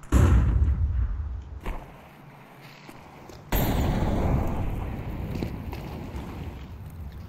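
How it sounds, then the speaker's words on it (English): Flashbang grenade going off in a video game, a loud booming burst followed by quieter rumble, then a second sharp blast that decays into a long roaring wash. "I'm throwing a flashbang!"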